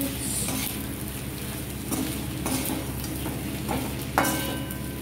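Pieces of taro root (arbi) fry in a pan and are stirred after chili powder goes in. The sizzle is steady and close, with soft scraping and tossing sounds over it and one sharper clink near the end.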